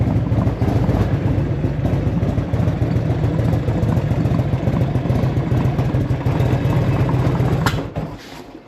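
1984 Harley motorcycle engine running in first gear with a steady, loud, close chugging rumble that abruptly cuts out as the engine stalls near the end.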